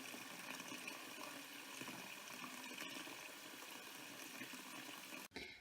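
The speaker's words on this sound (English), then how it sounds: "I'm just going to fill this pot up with water" Water from a kitchen tap filling a pot for vegetable broth: a steady, even rush of running water throughout, close and moderately loud, cutting off abruptly near the end.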